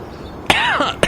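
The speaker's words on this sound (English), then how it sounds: "Why did that cough come out of nowhere?" A single sharp cough bursts out near the microphone, followed moments later by a second short cough, set against quiet room tone on a podcast.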